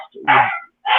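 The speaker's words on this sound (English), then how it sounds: "You guys are gonna have to excuse that noise. That's just my dog." A dog gives two short, loud barks close by, separated by a brief gap, with a faint sound before the first.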